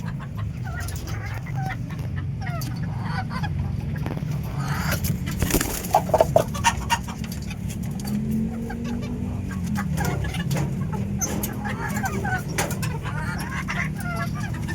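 Chickens cluck over a steady low rumble of background noise, their short calls scattered throughout, with a brief louder burst in the middle; these are farm birds kept for slaughter.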